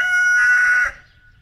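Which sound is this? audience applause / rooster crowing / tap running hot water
rooster crowing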